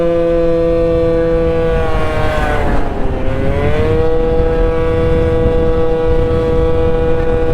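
A Honda Dio scooter engine with a tuned carburetor screams at high revs, its pitch dipping briefly and climbing back, loud and sustained throughout.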